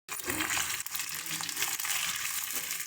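Chopped capsicum, tomato and onion frying in a pan for dhaba-style kadai masala paneer, a steady close sizzle with scattered crackles and the clink of stirring throughout.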